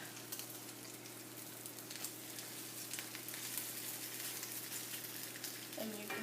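Meat searing in a hot pan gives a steady, moderately quiet sizzle that holds throughout, with a brief scrape or clatter near the end.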